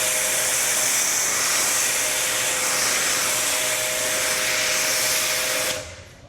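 An Active 2.3 pressure washer sprays foam in a loud, steady hiss with a constant motor whine underneath, running alone for several seconds before cutting off abruptly near the end.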